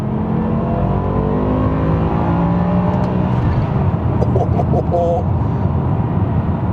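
A BMW M6 V10 engine revs hard while accelerating, a loud, close wail climbing steadily in pitch over several seconds, with faint shift blips near the end.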